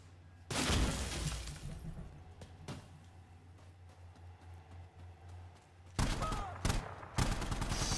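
Insurgency Sandstorm video game gunfire with tracer rounds from a technical, loud bursts at the start and again near the end with quieter background in between.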